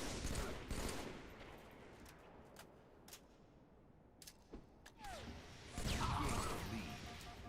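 Sniper rifle fire in a Halo video game: several sharp, separated shots and impacts at moderate distance, ending in a louder, denser burst.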